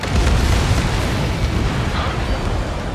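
Bombs from a jet detonating in the Ace Combat 7 air-combat game, a sustained loud rumbling blast with heavy low boom filling the whole stretch, no talk over it.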